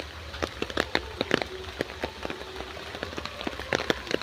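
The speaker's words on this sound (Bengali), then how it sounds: "আমাদের এখানে তো খুবই বৃষ্টি হচ্ছে" Scattered raindrops tapping nearby on a hard surface, irregular and fairly quiet, over a soft steady background hiss.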